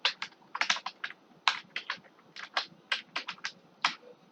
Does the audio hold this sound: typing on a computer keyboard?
yes